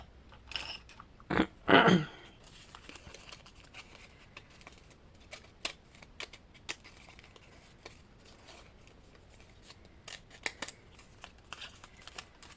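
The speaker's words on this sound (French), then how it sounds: "J'essaie de le faire au ciseau directement, ce sera plus simple." A few quick scissor snips through paper close by, followed by scattered faint clicks and rustles in an otherwise quiet room.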